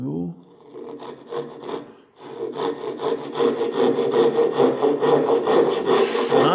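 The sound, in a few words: hand saw cutting wood across the grain with a crosscut blade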